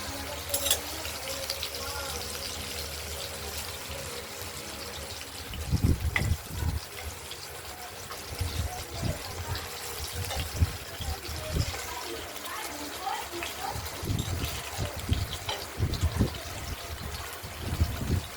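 Katla fish pieces and potatoes fry in hot oil, a steady sizzle throughout, with clattering bursts as pieces are turned over with a utensil, and a voice speaks over it.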